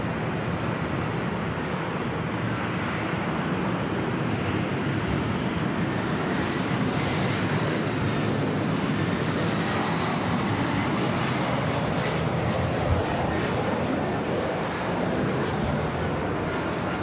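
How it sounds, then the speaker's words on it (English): Jet airliners and their engines at LAX airport in Los Angeles, heard from the east side of the field as a continuous loud roar that swells gradually, with no voices over it. "picking up the sounds of the planes"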